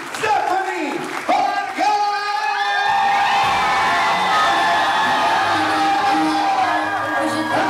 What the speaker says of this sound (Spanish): que se siente el aplauso, que se siente el aplauso